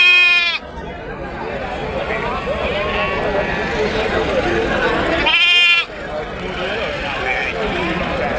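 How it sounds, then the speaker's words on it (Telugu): White ram lambs at a weekly sheep and goat market bleat loudly up close, two wavering cries at the start and near the end, over a crowded bustle of livestock and people talking. "తెల్ల పొట్టేళ్ళ పిల్లలు ఇవి మంచివి"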